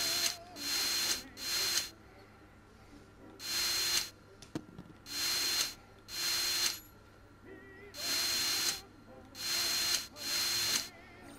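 A virtual power screwdriver in the VR game Wanderer unscrews parts in repeated whirring bursts, about eight evenly spaced short drill runs with quiet pauses between them.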